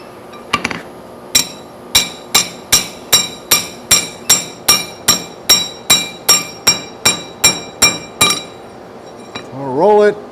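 Steady hammer blows ring out on metal during blacksmith forging as a piece is straightened, about eighteen sharp evenly spaced strikes, loud and close, followed by a brief rolling scrape at the end.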